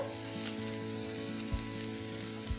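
Onions and ground spices including turmeric, chili powder and cumin frying in a pan, a steady close sizzle with a few soft stirring knocks and a low tonal hum underneath.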